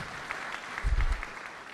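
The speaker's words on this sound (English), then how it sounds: "a little round of applause for our panelists." Brief, soft applause from the audience for panelists at a naval warfare conference, a diffuse wash of distant clapping with a low thump partway through.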